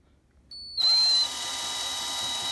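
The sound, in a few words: power drill spinning Porsche odometer gear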